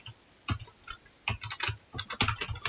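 Someone types an email address on a computer keyboard, with close, crisp key taps in short irregular bursts separated by brief pauses.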